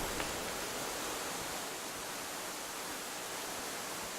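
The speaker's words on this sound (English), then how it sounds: "I'm trying to get away from the loud ass waterfall because that's one of the things that's crazy loud" Loud, steady rushing of a waterfall in the first-person adventure game Valley, a dense broadband roar filling the whole clip without pause or change.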